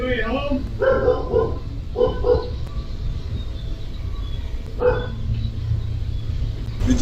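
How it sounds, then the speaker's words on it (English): A family dog inside a house barks in short bursts of several yips, then once more after a pause, over a steady low rumble of room noise; close, sharp and fairly loud. "we hear the dog barking pretty much the entire time that the deputy can be heard walking through the house"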